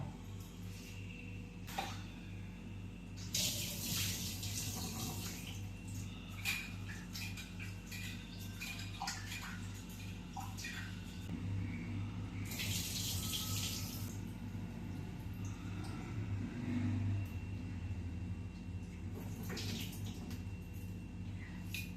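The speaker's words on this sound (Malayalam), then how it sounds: "നന്നായിട്ട് കഴുകി രണ്ട് ഗ്ലാസ് അരി ഒരു വാള ഉഴുന്ന് കഴുകിയിട്ടോ" Water runs and splashes in a bowl with steady swishing and patter, rice and urad dal being rinsed by hand; bursts of louder splashing come and go.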